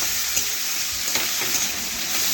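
Potatoes, long beans and carrots are stir-fried with a paste of ginger, cumin and green chilli, making a continuous close frying sizzle with faint scraping from the stirring spoon throughout.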